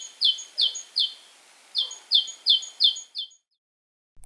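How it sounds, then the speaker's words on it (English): Great tit singing a bright, repeated two-note phrase, about nine clear notes in two evenly paced runs, close and alone, ending in silence. "G is for great tit."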